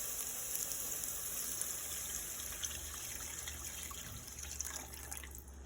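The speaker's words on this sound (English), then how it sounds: "I put about a 24 ounce of water in here that I'm going to pour in." Water poured steadily from a container holding about 24 ounces into a pot of rice, a continuous close trickle and splash lasting throughout with no voices.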